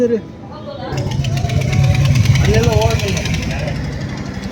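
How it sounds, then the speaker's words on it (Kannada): A rapid mechanical hammering pounds continuously nearby, like a jackhammer at a construction site, while people talk over it. "ಅಲ್ಲಿ ಇನ್ನೂ ಮಾಡ್ತಾ ಇದಾರೆ ಕನ್ಸ್ಟ್ರಕ್ಷನ್"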